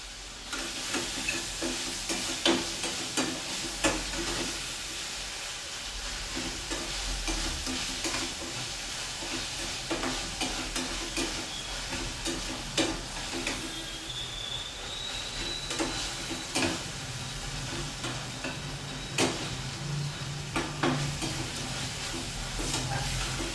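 Okra masala sizzling in hot oil in a pan, with a spoon scraping and stirring at intervals over a steady frying hiss, close and moderately loud with no talk.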